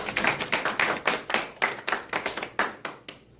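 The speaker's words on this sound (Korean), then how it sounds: "우리 준이한테 박수 한번 해주십시오." A church congregation applauds for Jun, a steady burst of many hands clapping at close range for a few seconds, then fading out, with no talking over it.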